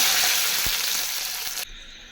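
Dried red chillies tempering in hot oil in a pan for an old-style toor dal guggula charu. A loud continuous hiss and sizzle with a couple of soft knocks cuts off abruptly near the end.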